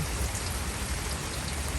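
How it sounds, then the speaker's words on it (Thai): Rain falls behind a house in a steady, fairly loud wash of drops pattering on surfaces, with a dense hiss and low rumble continuing evenly, no voices. "ฝนตกอยู่หลังบ้าน"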